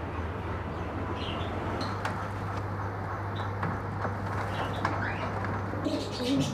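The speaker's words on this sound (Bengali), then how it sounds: "এখানে এক জোড়া আছে পাপোস পায়রা" A pair of large fancy pigeons cooing softly over a steady low hum, with a few faint wing flutters and chirps scattered through.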